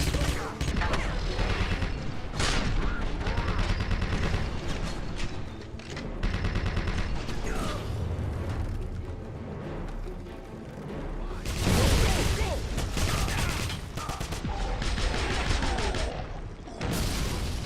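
An enemy gunner's mounted gun fires in long, sustained machine-gun bursts during a Wolfenstein firefight, loud and dense with heavy impacts layered in.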